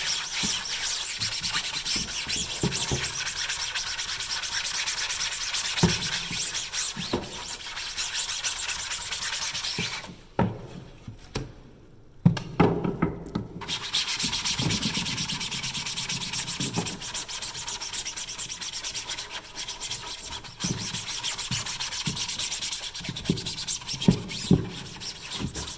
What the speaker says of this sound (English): coat my screens pretty heavy, and so I know I gotta scrub it a little bit. So give it a little scrub.